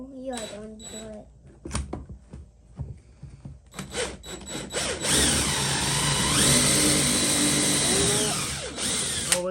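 People talk briefly before a power drill starts and whines steadily, its pitch shifting as it bites into wood, loud and close.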